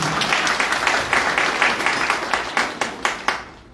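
A crowd at a Kenyan church memorial gathering claps together, with loud, dense applause and distinct rhythmic hand strikes that carry on steadily and then fade out abruptly at the end.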